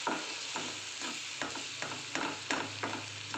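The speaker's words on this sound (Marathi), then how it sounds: "आता यात आपण आपली प्युरी ॲड करून घेऊया व्यवस्थित त्याला मिक्स करून घ्यायचं आहे" Fried onion with tomato puree stirred in a pan, a spatula scraping in regular strokes about every half second over a continuous sizzle, close and with no voices.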